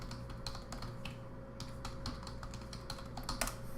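Someone types a password on a computer keyboard, a quick run of soft close key clicks in an irregular rhythm over a faint steady hum, with no talking.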